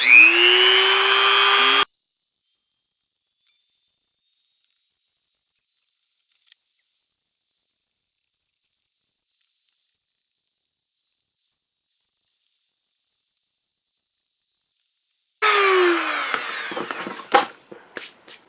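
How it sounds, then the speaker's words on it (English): A rotary tool fitted with a rounded-tip grinding stone smooths the edges of a plastic universal game case made to fit NES games, giving a steady, close, high-pitched whine for about thirteen seconds, framed by louder bursts of tool noise. "what I have here is a grinding stone with a rounded off tip, and I find that this is the best way to soften those edges"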